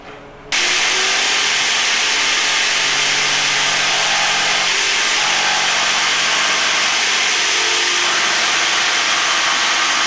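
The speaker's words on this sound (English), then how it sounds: "Now I'm going to take my jigsaw and I'm going to cut to the outside of that line" Jigsaw cutting along a marked line in a wooden zero-clearance throat plate for a table saw, a loud continuous buzzing rasp close by that runs steadily for about ten seconds after a brief quiet start.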